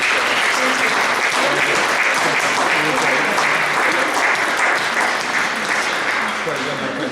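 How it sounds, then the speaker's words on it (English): An audience applauds at the close of a lecture on Anglo-Chinese encounters before the Opium War, a full, sustained round of clapping that fills the room and tapers slightly at the end. "Please join me in another round of thanks and applause for"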